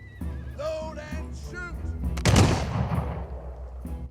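A volley of gunfire from industrial-era units in the strategy game Humankind erupts midway as a loud, dense burst, then fades out. It follows a horse's whinny at the start.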